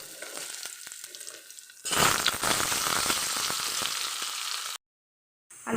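Cut potatoes hit hot oil tempered with whole spices while cooking chickpea dal with gourd. A loud, crackling sizzle bursts in suddenly after a quieter start and continues steadily, then briefly drops to silence near the end.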